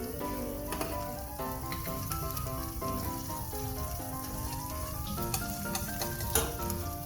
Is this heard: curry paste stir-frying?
yes